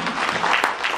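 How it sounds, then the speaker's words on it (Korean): Concert audience applauding a composer in a hall, a short burst of dense, fairly loud clapping with no voices over it. "박수 한번 부탁드립니다."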